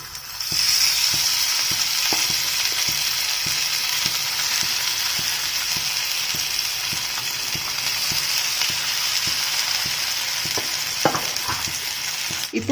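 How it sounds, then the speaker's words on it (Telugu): Fish pieces fry in hot oil in a pan over a low flame for a Hyderabad-style fish fry, giving a steady, close sizzle with occasional light clicks and pops throughout. "ఇప్పుడు లో ఫ్లేమ్లో పెట్టి ఫ్రై చేసుకోవాలండి"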